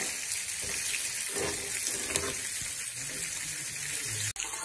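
Fish sizzling and frying on a tawa griddle, a steady loud hiss of hot oil crackling close up, with a brief clatter near the end and no talking.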